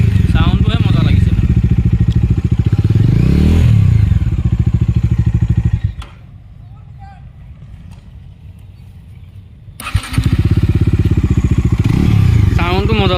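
A Bajaj Dominar 250 motorcycle engine runs loud and close with a steady throbbing exhaust, cuts out to near silence for several seconds, then fires back up to the same strong running note.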